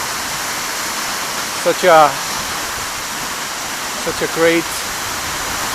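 Seljalandsfoss waterfall gives a steady, loud broadband roar that fills the whole clip without a break, with brief speech from a person standing close by over the top of it.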